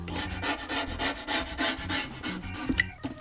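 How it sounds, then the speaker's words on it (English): A surface scraped with a tool in rhythmic, gritty back-and-forth strokes, close and fairly quiet, ending with a couple of small knocks. "See if I can scrape off any more."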